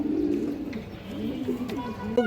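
Close, low, throaty cooing from an old female pigeon, repeated in soft wavering phrases, with faint clicks and a sharp knock near the end.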